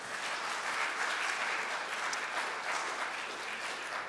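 Steady applause from an audience, a dense wash of clapping that continues evenly throughout without any talking.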